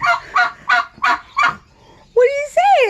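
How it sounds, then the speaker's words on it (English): A backyard fowl calls in a loud, close series of five rhythmic clucks, followed by two longer squawking, honk-like cries. "Here's a chicken."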